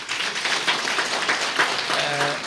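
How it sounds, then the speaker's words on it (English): Applause from the audience at an annual general meeting, a dense, steady wash of clapping lasting the whole moment, with a faint voice or tone sounding briefly near the end. "I think our speaker deserves another round of applause"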